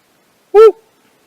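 A person imitates an owl call at night in woodland, producing a single short hooting cry that is loud and close, a voice mimicking the bird.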